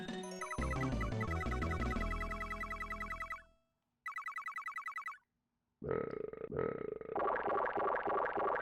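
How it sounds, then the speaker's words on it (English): Cartoonish burp effects from the SNES game Boogerman play amid chiptune music and jingle-like effects, arriving in short bursts separated by brief silences. "The burp sound effect is good."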